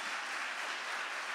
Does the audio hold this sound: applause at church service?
yes